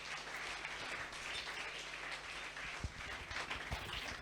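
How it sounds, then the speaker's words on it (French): An audience at a church charity gathering claps in steady, dense applause that is fairly faint and even throughout, with a few sharper claps near the end. "Est-ce qu'on peut encore acclamer?"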